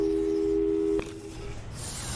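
A telephone busy signal in the video game Portal 2 holds a steady tone for about a second and then cuts off, leaving quiet background noise.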